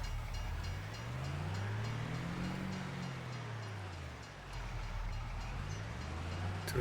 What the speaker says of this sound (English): Whoa, train.